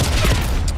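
Rapid burst of gunfire from an online shooter video game, loud and dense with booming low end, filling the whole short moment with no talk.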